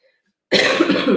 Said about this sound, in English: I know my cough is just like not the cutest thing